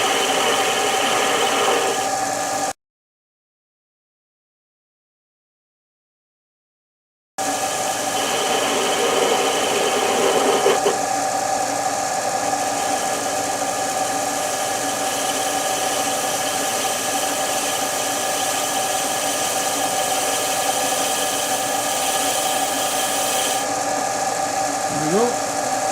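A Smarty AT-300 lathe turns a cast iron backplate with a steady motor whine and a scraping cutting tone, interrupted by a few seconds of total silence near the start, then running on evenly to the end.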